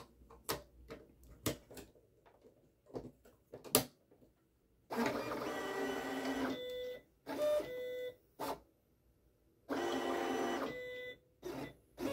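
A Silhouette Cameo 5 cutting machine fitted with a Kraft blade works slowly: quick clicks and taps, then longer buzzing motor runs of a few seconds each, loud and close in a quiet room.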